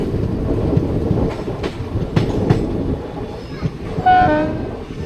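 Kalka-Sainagar superfast express train rounding a curve, with rolling wheel clatter and periodic clicks under a steady rumble, and a horn sounding near the end.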